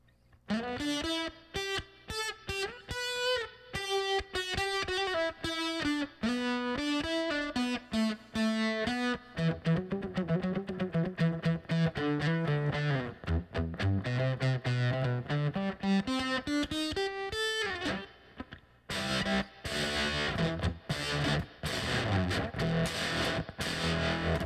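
An electric guitar, a Jazzmaster on the bridge pickup through a Way Huge Purple Platypus octave fuzz into a Princeton Reverb amp, plays melodic lines and sustained notes with heavy fuzzy distortion, then shifts to a brighter, choppier passage near the end.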